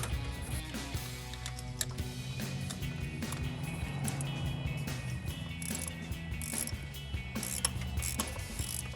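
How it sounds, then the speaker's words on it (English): A wrench ratchets as it tightens an iridium spark plug on a RAM 1500, giving steady, close clicking under a mechanical background. No one speaks. "Then you can grab your wrench and torque it down till it's snug."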